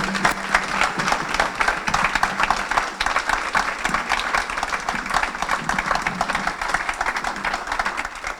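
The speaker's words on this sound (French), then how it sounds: "Est-ce que vous pouvez applaudir Katia Bent," Audience applause after a moving personal testimony, sustained even clapping from many hands at moderate distance, continuing for the full stretch with faint crowd murmur underneath.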